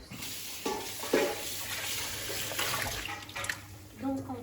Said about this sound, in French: Tiens, on va rincer les tomates.